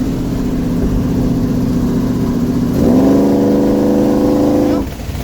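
A truck engine idles loudly nearby, then revs up to a higher steady pitch for a couple of seconds before dropping back down.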